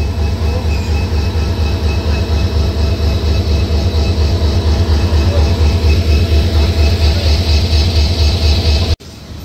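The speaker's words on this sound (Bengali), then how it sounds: "2600 সিরিজের লোকোমোটিভ, যার সিরিয়াল নাম্বার 2609, যেটা কিন্তু MEG 15 অর্থাৎ 1500 হর্স পাওয়ারের একটা ইঞ্জিন" A 2600 series MEG 15 diesel locomotive, number 2609, rated at 1500 horsepower, hauling the Korotoa Express. Its deep steady engine drone holds loud and constant for about nine seconds, then cuts out abruptly near the end.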